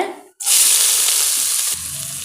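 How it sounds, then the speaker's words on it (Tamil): Onions dropped into a hot pan with cumin seeds and urad dal burst into a loud, close sizzle right after a brief silence, then keep frying steadily and ease slightly near the end. "இப்போ நாம் வெங்காயத்தை சேர்த்துடலாங்க"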